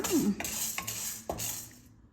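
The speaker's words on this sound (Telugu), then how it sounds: "ఈ శనగపప్పు కొంచెం వేగిన తర్వాత" Chana dal frying in oil in a pan for gongura quinoa rice, a close, soft sizzle with a few brief clinks and stirring scrapes over about two seconds.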